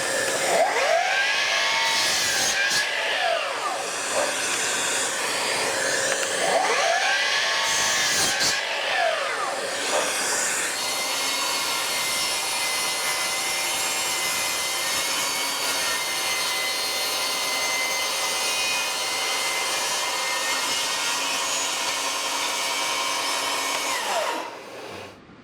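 A power saw in a home workshop rips wood slats at 45 degrees for French cleat wall storage, a loud close whine that dips twice early on, then runs steadily for about 25 seconds before cutting off.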